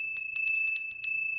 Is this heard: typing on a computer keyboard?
no